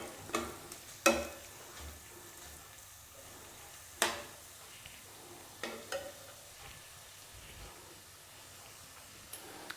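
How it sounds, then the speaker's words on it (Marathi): Ridge gourd being sautéed and stirred in a pan for chutney, a soft steady sizzle with a few sharper scraping clicks of a spoon against the metal, faint and close, with no talking. "छान असं परतून घ्यायचं आहे आपल्याला आणि ह्याला 5 मिनिटं आपण शिजवून देणार आहोत."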